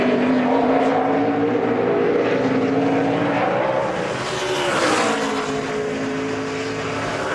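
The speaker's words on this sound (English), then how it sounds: "I talked about the 9 car screaming back onto the racetrack." NASCAR Sprint Cup race car screaming back onto the racetrack at the Cheez-It 355 qualifying, a loud high-pitched engine roar that shifts and swells as it passes.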